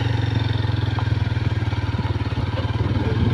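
A motorbike rumbles steadily from close range as it rides over stones on an unpaved road near a lake, its engine pulsing loudly throughout.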